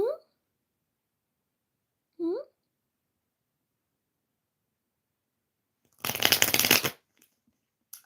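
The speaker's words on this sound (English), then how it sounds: "Let's shuffle some cards for Arpita." Tarot cards are riffled in a quick, papery shuffle lasting about a second in an otherwise quiet room, preceded by a couple of short vocal sounds.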